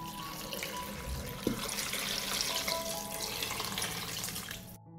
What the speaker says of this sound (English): I pour a liter of water.